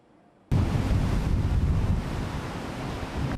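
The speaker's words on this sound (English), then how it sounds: "Waves up to 6 meters high slam into Taiwan's coast" Large typhoon waves, up to six meters high, crash against Taiwan's coast during Super Typhoon Krathon. A sudden loud, continuous roar of surf and wind noise begins after a short quiet opening and stays close and heavy throughout.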